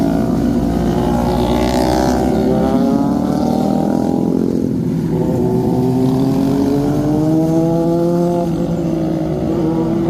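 Big motorcycles race past on a road, their engines loud and roaring, with rising and falling revs and overlapping passes throughout, continuous and close.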